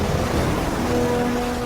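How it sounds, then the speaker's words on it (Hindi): Ocean waves pound the shore during a winter storm as the tide rises, a dense, continuous roar of surf that stays loud and steady without a break. "भयानक लहरें किनारे की इस नर्सरी तक आ रही हैं और बच्चों को अपनी मांओं से अलग कर रही हैं।"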